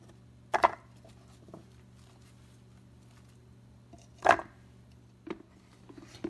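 Mixed vegetables being chopped for a quick thoran, a handful of sharp chops spaced a few seconds apart, close and fairly quiet over a low steady hum.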